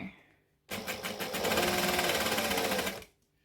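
A sewing machine with an odd, off-sounding running noise stitches a Christmas tree skirt, starting abruptly and whirring loudly and steadily for a little over two seconds before stopping.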